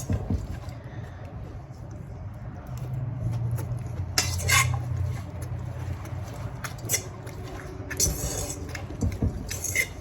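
Salad tossed with utensils in a bowl, with repeated clinks, scrapes and soft stirring rustles, a few sharper metallic clatters, and faint talk at times.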